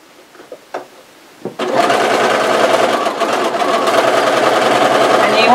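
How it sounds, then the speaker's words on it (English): A few soft clicks and taps come before a sewing machine whirs into steady, close stitching, running the elastic onto a zippered face mask without a break to the end. "you want to sew back and forth a bunch of times over each end of the elastic"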